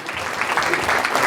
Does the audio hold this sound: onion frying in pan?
no